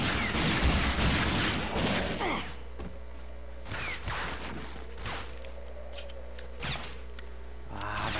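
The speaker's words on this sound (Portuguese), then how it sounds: "agora virou trocação de tiro agora" Gunfire in the video game Rage crackles in rapid bursts at first, then sporadic single shots ring out over a low steady hum.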